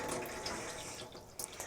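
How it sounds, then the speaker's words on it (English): Cool water is poured into a cup to prepare a silk and thread dye bath, giving a steady, close splashing stream that runs alone throughout. "Just going to add a little bit of cool water in here as well."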